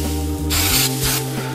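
Non-stick cooking spray hissing onto a hot pan in two short close bursts over a steady background hum.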